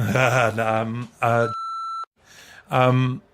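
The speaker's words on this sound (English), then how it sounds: "It's all right, we can beep it out." A single steady electronic censor beep cuts into a stretch of talk, a flat tone lasting about half a second between spoken phrases.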